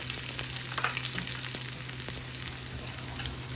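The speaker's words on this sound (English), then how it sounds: "Oil all around that pan. And let me put some scallions first." Scallions frying in an oiled pan before eggs are added, a steady close sizzle with soft crackles and pops running through the whole stretch.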